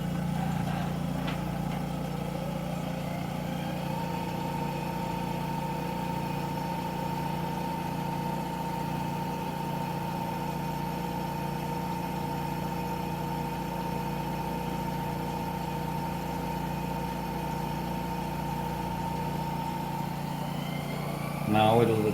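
A Brewer Science 100 spin coater runs a spin program with a steady, even motor whir and faint tonal hum, holding constant before a brief rise in level at the end.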